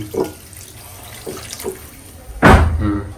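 Water is poured into a pot of mutton curry as it cooks. It comes as a few brief splashes, then one louder, sustained gush near the end, close and clear with no talking.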